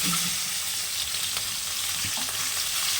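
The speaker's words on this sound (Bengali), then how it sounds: "আজকে মাছটা লাল করে ভেজে নিতে হবে" Katla fish, without turmeric, frying in hot oil until deeply browned and crisp for a doi katla dish, giving a steady broadband sizzle with faint spatula scrapes and small pops throughout, loud and alone with no talking.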